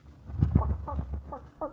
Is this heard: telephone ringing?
no